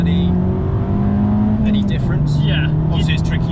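An Abarth 595 Competizione pulls hard in second gear, its engine droning loudly with a rising steady tone from inside the cabin, while people talk over it.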